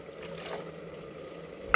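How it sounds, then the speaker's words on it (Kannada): Water poured from a glass into rice for a South Indian veg pulao with tomatoes gives a steady, soft splashing pour that lasts under two seconds and ends with a sharp clink. "2 ಲೋಟದಷ್ಟೇ ನಾನು ನೀರು ಹಾಕ್ತಾಯಿದ್ದೀನಿ"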